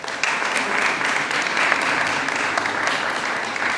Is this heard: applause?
yes